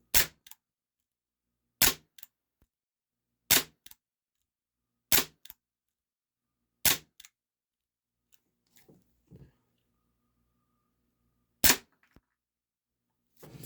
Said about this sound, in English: I'll just shoot at the box.